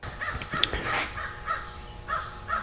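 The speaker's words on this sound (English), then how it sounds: "Crows" Several crows caw outdoors in short harsh calls spaced across a couple of seconds, moderately distant over a steady low background hum from a 1968 Ford Mustang flat tappet camshaft engine break-in run.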